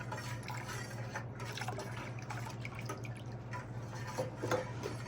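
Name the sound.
pouring fresh squeezed juice for sangria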